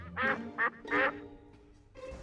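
A cartoonish duck in a picture-book story lets out three loud, nasal quacks in quick succession, followed by a softer trailing call.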